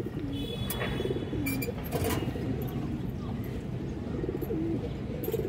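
A pair of silver Bagha Khaki pigeons coo softly and repeatedly against a steady background hum, with faint chirps and someone talking nearby.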